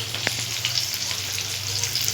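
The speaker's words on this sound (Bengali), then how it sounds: "মাছের মাথা ভাজা হচ্ছে।" A fish head sizzles steadily in hot oil, a close, continuous frying hiss with a few sharper crackles, and no voices.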